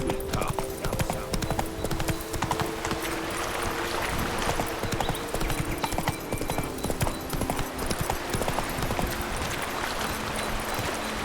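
Roach, a horse in Witcher 3, clip-clops along at a steady walking rhythm, the hoofbeats close and continuous over game music and ambient sound, with some talk mixed in.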